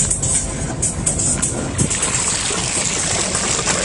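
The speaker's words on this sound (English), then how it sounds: "And the water will dump out." Water rushes and splashes continuously as ballast tanks drain from a Supreme V226 boat on a lake, a steady gushing flow with an engine rumbling underneath.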